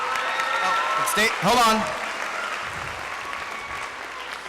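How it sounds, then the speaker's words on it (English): Audience applause for ninth graders at a junior high spring band concert, steady clapping filling the room, with a brief voice speaking over it partway through. "Give them a round of applause."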